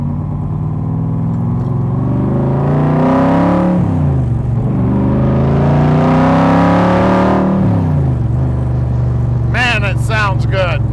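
A 1965 Shelby Cobra Backdraft replica with a Jack Roush engine revs loudly nearby, the deep V8 note swelling up and dropping back twice in long pulls, with someone talking briefly at the end.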